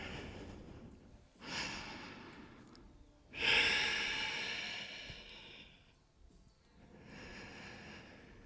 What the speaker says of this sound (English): we take 3 breaths here